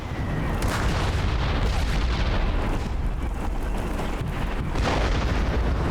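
Heavy mortar and tank fire rolls through a war video game, a continuous dense barrage of booming blasts and rumbling explosions at steady loudness with no voices.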